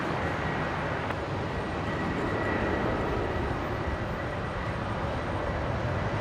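A Virgin Boeing 737 airliner rolling along runway 19 left at Brisbane International, a steady broad engine roar and rumble holding level throughout, heard from a distance with no talk.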